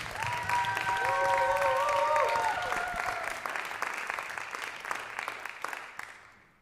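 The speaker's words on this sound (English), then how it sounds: "please give a big round of applause" Audience applause at a university jazz singers concert, a full sustained wash of clapping with a few whistles early on, fading out toward the end.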